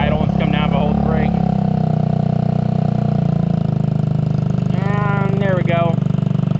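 A Honda Metro scooter engine idles steadily with a loud, constant low drone and buzzing harmonics, while a person talks over it.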